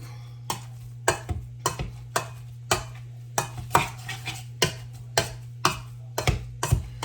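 Boiled potatoes seasoned with garlic powder and salt get smashed in a pot, making about a dozen sharp, evenly spaced thumps and clinks of the masher against the pot over a low steady hum, with no talking.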